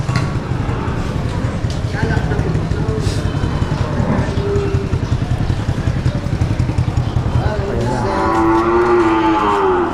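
Water buffalo at a busy livestock market in Padre Garcia, lowing loudly over steady crowd noise and an idling engine, with people talking nearby.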